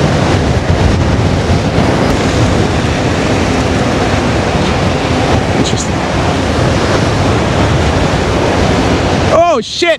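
Strong wind roars and buffets the microphone steadily while riding the 2023 Master Pro V1, a loud, continuous rush throughout with a brief sharp whistling burst near the end.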